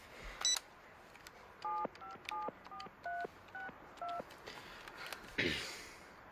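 A telephone number tapped out on a keypad for a prank call: a series of distinct dialing tones, about ten short beeps in an even rhythm, clear and close, between a couple of brief clicks and handling noises.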